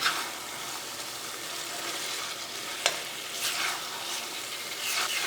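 Chicken tomato curry sizzles on a high flame as it is stirred, a steady close frying hiss with soft scraping strokes and a few small splashes, no voices.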